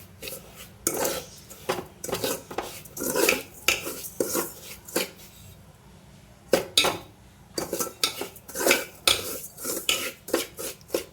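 Semolina stirred and sautéed in ghee in a pan for rava payasam, with a spoon scraping and clinking against the pan in quick repeated bursts and short pauses, close and fairly loud.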